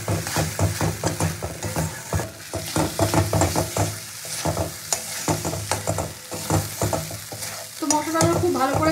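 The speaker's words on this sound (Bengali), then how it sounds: "মশলাটা খুব ভালো করে কষিয়ে নিই" Masala for malai prawn curry fries in a pan while a spatula scrapes and stirs it repeatedly, a close, busy sizzle punctuated by rhythmic clacks and scrapes, with no talking.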